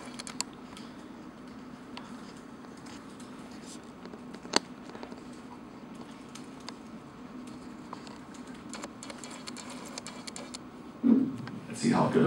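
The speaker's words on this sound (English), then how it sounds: "Let's see how good I am typing with one hand." One-handed typing on a computer keyboard during a live Node.js demo at a meetup talk, heard as soft, irregular clicks under a steady room hum, with a louder burst of noise near the end.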